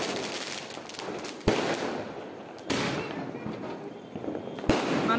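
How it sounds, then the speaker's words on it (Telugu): Diwali firecrackers from a non-stop multi-shot cake go off in the distance. Three sharp bangs are spaced apart, with a continuous crackling fizz filling the gaps. "లక్ష్మీ పూజ చేసుకొని తర్వాత అయితే క్రాకర్స్ కాల్చడం మొదలు పెడతాము"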